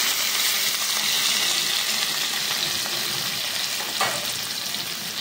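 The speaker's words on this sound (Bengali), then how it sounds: "হালকা হালকা ফ্রাই করে নেবো।" Potatoes lightly frying in a pan with a little water while being stirred for a curry, giving a loud, steady, close sizzle with an occasional scrape of the spoon and no voices.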